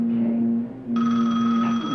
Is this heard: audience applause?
no